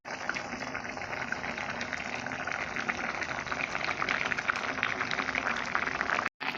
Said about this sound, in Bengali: তারপরে আমরা এইগুলো সেদ্ধ করতে দেব জলেতে লাউগুলো সেদ্ধ করতে